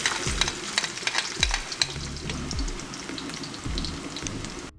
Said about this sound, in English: On another pan, let's use the same oil that we use from the ham and the bacon.